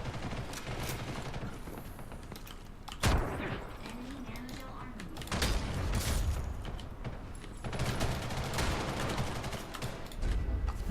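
Rocket and gunfire bursts in the online shooter Ghost in the Shell: First Assault, with loud blasts around three, five and eight seconds amid ongoing combat noise.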